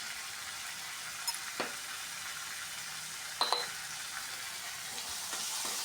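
Salted tomato is sautéed and stirred in a hot pan for a Bengali soybean dish. A constant close sizzle runs throughout, with a few scattered clinks and scrapes of the spatula.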